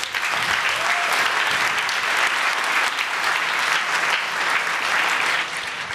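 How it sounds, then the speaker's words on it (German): A youth hackathon audience at Jugend hackt Berlin 2018 applauds a presenting team. The clapping is loud, dense and continuous for about six seconds and eases slightly at the very end, with almost no talk. "Einen ganz herzlichen Applaus."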